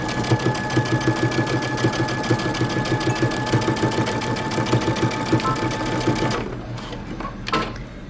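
A sewing machine stitches a bomber jacket seam with steady, fast rhythmic pulsing close by, stopping abruptly near the end, with a short clack afterward.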